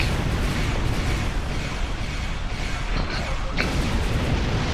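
Torpedo hits in the space combat game Star Trek Online, a dense, continuous rumbling roar of explosions with a brief bright burst near the end.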